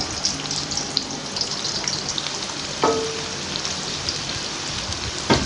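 Finely chopped medium-size onion frying in a pan for chicken Chinese rice, a steady close sizzle like light rain with a couple of brief clinks.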